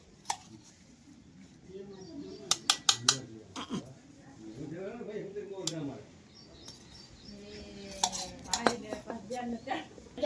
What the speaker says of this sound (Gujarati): તો મિત્રો હવે આપણે લસણ ખડાઈ ગયું છે તો હવે આપણે વાટકામાં ઠલવી નાખીએ